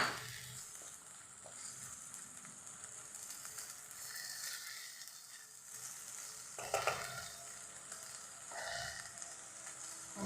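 Two medium tomatoes frying in a pan with ginger paste and salt for egg biryani, a soft, continuous sizzle and hiss with occasional stirring scrapes, fairly quiet and steady throughout.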